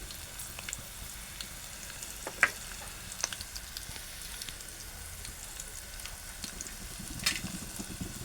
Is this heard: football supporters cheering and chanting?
no